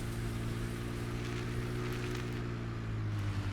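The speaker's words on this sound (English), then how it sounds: "Basically just a great little tractor for running around the farm on" Small tractor engine driving in Farming Simulator 17, a steady low droning hum throughout with a slight pitch dip near the end, no talk.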